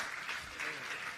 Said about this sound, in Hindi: जोरदार तालियों से उनका स्वागत अभिनंदन कर दें।